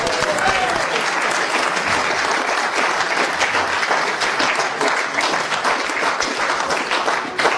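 Steady, loud audience applause fills the room continuously, a dense crowd of clapping hands with a few voices faintly mixed in.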